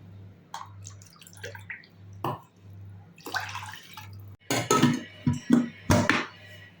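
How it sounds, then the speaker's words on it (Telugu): Two cups of water are poured in short bursts into washed rice in a pressure cooker, splashing and trickling over a steady low electrical hum, with a few light clinks. "శుభ్రంగా వాష్ చేసుకున్న బియ్యంలోకి 2 కప్పుల నీళ్లు పోసుకొని"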